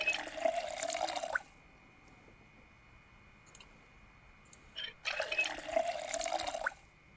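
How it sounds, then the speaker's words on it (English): Water filling cook pots in the Project Zomboid video game: two loud bursts of running, splashing water, each lasting over a second, separated by a quiet gap with faint clicks. "Now we're going to start filling these cook pots."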